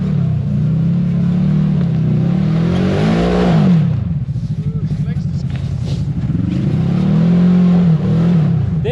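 Polaris Rhino side-by-side revving hard and accelerating on ice, a loud, close engine roar rising and falling in pitch with steady throttle swells, people talking over it.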